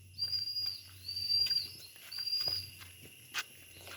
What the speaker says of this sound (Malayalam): കിളീൻ്റെയും ഒരുപാട് കിളികളുടെയൊക്കെ സൗണ്ടുകൾ കേൾക്കാം കേട്ടോ.